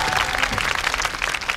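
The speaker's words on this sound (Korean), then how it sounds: "박수 부탁드리고" Audience applauding after a contestant's presentation at an interpreting competition final, a brief burst of lively, close clapping.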